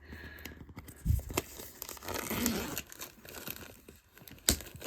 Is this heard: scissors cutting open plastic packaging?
yes